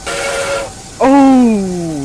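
A steam train whistle sounds in the RO-Scale Sandbox video game: a short hissing toot, a brief pause, then a louder, sustained whistle blast that slowly falls in pitch, with no talking.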